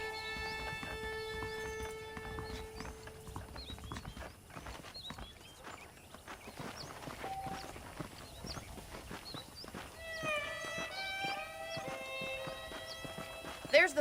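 Saddled horses' hooves clip-clop at a walking pace in Red Dead Redemption, a steady near rhythm under game music and ambience, with a brief whinny and voices talking over parts of it.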